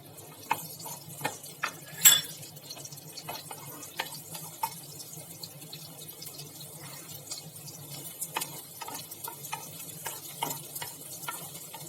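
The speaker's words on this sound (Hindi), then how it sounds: "ऑयल हमने डाल दिया है पैन में 2 टेबलस्पून जितना, और अब हम इसमें लहसुन डाल रहे हैं" Garlic frying in about two tablespoons of oil in a pan, a soft, steady sizzle broken by faint ticks and clinks as it is stirred, with one sharper knock near the start.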